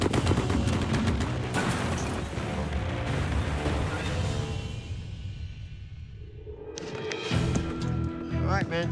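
A Bren machine gun fires two short bursts outdoors, loud and close, each burst a quick rattling string of shots with echo trailing off between, with people talking around the firing.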